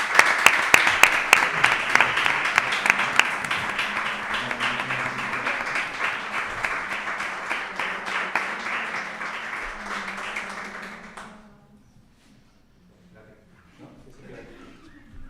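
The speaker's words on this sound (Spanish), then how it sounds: "Un fuerte aplauso." Audience applause at a certificate ceremony, sustained clapping from a room of people with sharp individual claps in front, holding steady for about eleven seconds before cutting off into near silence with faint stray sounds.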